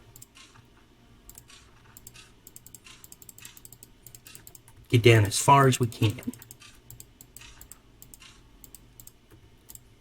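Rapid mouse and keyboard clicks from someone digging straight down in Minecraft, a steady light clatter throughout, interrupted briefly by a person talking in the middle.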